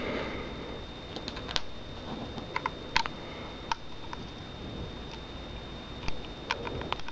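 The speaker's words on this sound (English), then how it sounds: "Alright, let me put these screws back in." Small screws being fitted back into a PS3 hard drive caddy, faint scattered ticks and light metallic clicks spaced irregularly over a quiet background hiss.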